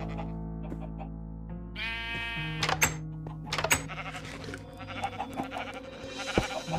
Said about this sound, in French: Alors, là, c'est les moutons.